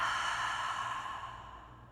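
A single long cleansing breath exhaled during a yoga class, a breathy airy sigh heard up close that slowly fades out.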